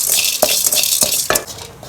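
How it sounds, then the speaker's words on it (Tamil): Salt and tamarind dry-roasting in a pan, a steady hiss with several sharp scrapes as they are stirred, close by and with no talk. "இந்த உப்பும் புளியும் நல்லா வறுத்துக்குவோம்."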